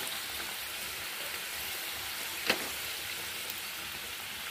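Coconut rolls made with wheat flour deep frying in oil, a soft steady hiss of bubbling oil with one brief sharper crackle midway, quiet and continuous.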